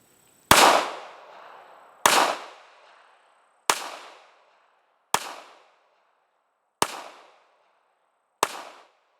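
Six sharp shots from a Ruger LCP pistol ring out one by one at a slow, even pace, each a loud crack that decays quickly into silence before the next.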